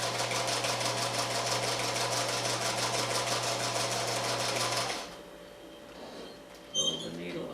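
A sewing machine runs steadily while stitching a pineapple quilt block, a loud continuous whir with a rapid needle rhythm that stops abruptly midway, leaving quiet room sound and a brief clunk near the end.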